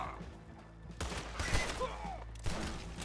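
Gunfire in the Red Dead Redemption 2 game during an oil wagon robbery, a burst of overlapping shots starting about a second in, then a brief lull and another volley near the end.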